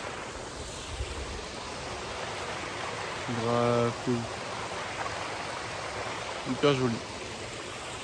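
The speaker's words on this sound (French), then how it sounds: "petite cascade ici" A small waterfall gives off a soft, steady rush of flowing water, faint and constant, while a person briefly speaks twice over it.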